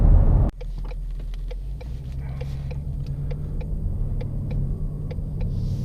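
A Roush supercharged 700 hp Mustang GT opens with a brief loud engine surge, then settles into a steady low rumble while cruising, with faint ticking clicks above the drone.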